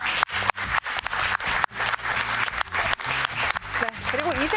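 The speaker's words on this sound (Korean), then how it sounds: "크게 박수 한번 주세요." Loud, close audience applause comes in sharp, uneven bursts with a voice talking over the clapping.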